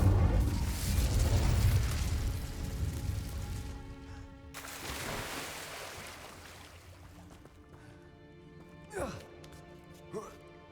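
A fiery spell cast in Hogwarts Legacy on PS5 bursts with a loud roaring whoosh that fades over a few seconds, followed by a second softer burst and a couple of sharp magical zaps near the end.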